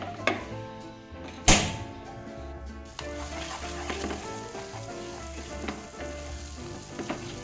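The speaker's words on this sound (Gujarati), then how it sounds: "માવા અને સુગરને કન્ટિન્યુ હલાવતા રહેવાનું છે." Mava and sugar sizzle softly in a pan as they are stirred for kesar elaichi peda, with a steady frying hiss, scraping strokes and an occasional sharp knock of the spoon against the pan.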